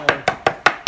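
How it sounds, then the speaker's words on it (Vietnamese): Knife chopping rabbit ribs finely on a board, five sharp evenly spaced strikes in quick rhythm, loud and close, no voices. "Đây là cái xương sườn thỏ là anh tôi băm nhuyễn này"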